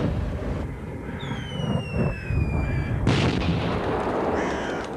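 Gunfire crackles in rough, loud bursts under a whistling, descending tone, with a sharper sustained burst later and continuous noisy rumble throughout; no talking.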